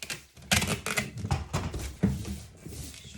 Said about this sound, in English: you can see here how I'm going to tape it